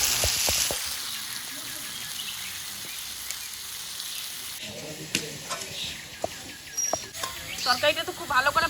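Soft sizzling of potatoes frying in a pan with turmeric and sugar, quiet and steady, with a few clinks and light stirring sounds.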